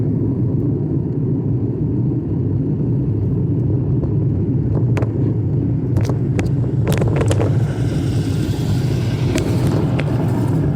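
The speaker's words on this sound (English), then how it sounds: "That's a big old truck right there." A big truck on the road gives a steady, loud, low engine rumble that fills the whole stretch, with a few sharp clicks and rattles toward the end.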